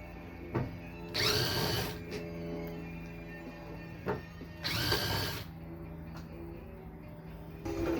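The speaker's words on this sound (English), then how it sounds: "Now I'm going to hit them with the drill and take the hood off all by myself." Power drill loosening the hood bolts on a Jeep Wrangler Unlimited JKU, two short whining bursts a few seconds apart, with clicks and clunks of handling between them.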